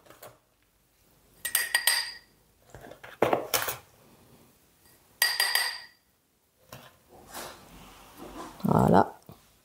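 Soil being stirred in a glass with a utensil, bursts of scraping and clinking against the glass separated by quiet gaps, ending in a louder gritty rattle.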